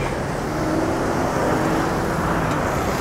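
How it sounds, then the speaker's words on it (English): Steady roar of city road traffic heard from a bridge in Chiang Mai, Thailand, a continuous close wash of car and engine noise with no gaps and no talking. "A lot of traffic out today."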